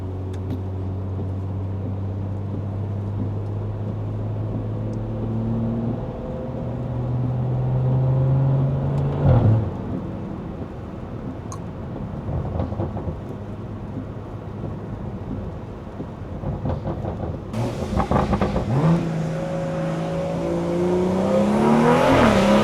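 A Stage 2 B58 BMW engine drones and revs from inside the cabin while driving, its pitch climbing and falling through gear changes, with a louder rising rev near the end.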